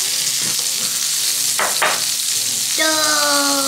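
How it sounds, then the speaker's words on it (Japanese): Raw crab pieces sizzle and fry steadily in butter in a home kitchen, a dense continuous hiss with a few utensil scrapes and stirring knocks, close and loud throughout. "はい、バター焼き。"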